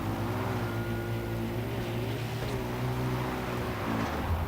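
Car engine revving under steady throttle in the video game Far Cry 4, a loud continuous droning hum with a slight rise and fall in pitch and a shift near the end, with no talking.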